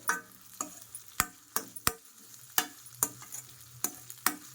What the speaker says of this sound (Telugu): చక్కగా వేగుతుంది నీట్గా